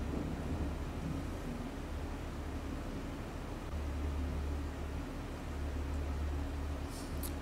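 Thunderstorm in the Farming Simulator 22 video game: a continuous dense rush of rain with low rolling thunder rumbling underneath, steady throughout.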